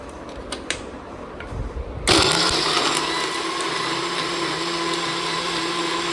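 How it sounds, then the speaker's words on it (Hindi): A kitchen grinder blending milk with peanut butter kicks on abruptly after a few quiet clicks, then runs as a loud, steady, high-pitched whir to the end. "अब इसको ग्राइंडर से अच्छे से मिक्स करेंगे।"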